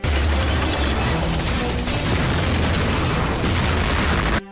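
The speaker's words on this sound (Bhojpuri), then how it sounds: "11 जुलाई 2006 मुंबई ट्रेन में बम विस्फोट" Bomb blast aboard a Mumbai train: a loud, dense booming roar of explosion fills the entire four and a half seconds, sustained and broadband, then cuts off abruptly at the end.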